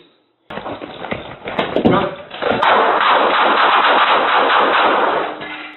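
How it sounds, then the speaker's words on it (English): Gunfire erupts during a police standoff with a man refusing to come out, heard as sharp cracks then a sustained harsh, loud burst over a muffled radio-like band, mixed with shouting voices. "7-6, shots fired."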